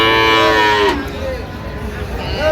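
A Sahiwal breed bull moos at a cattle market in Dinajpur, one long drawn-out call that fades after about a second, followed by a fainter, lower lowing over steady market background noise.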